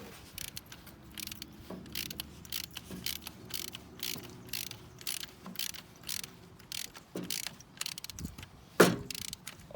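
A spanner working on a 1973 Leyland Moke, with close, repeated ratcheting clicks coming in steady short bursts and a sharper metallic clink near the end; no speech.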